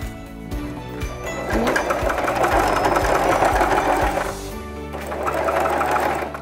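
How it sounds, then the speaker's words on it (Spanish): A sewing machine runs stitching elastic onto a fitted sheet while the elastic is stretched to gather the fabric, giving a close, steady mechanical whir with rapid needle clatter, a brief slowdown near the end, then resuming. "Aquí le vamos a hacer un remate y luego ya continuamos cosiendo"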